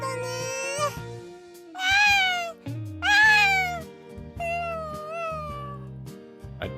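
Cat meows from a visual novel game, several drawn-out mewing calls in a row over soft background music, clear and close with brief gaps between them.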